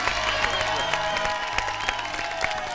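A TV game show studio audience on Pasapalabra applauds in a steady, dense wash of clapping that holds at an even level throughout, with a sustained musical tone running beneath it.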